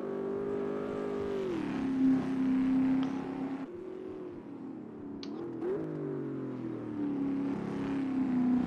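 Race cars in the Automobilista 2 driving game whine and rise and fall in pitch as they accelerate and shift, with a second car's engine joining midway, steady and moderately loud with no talking.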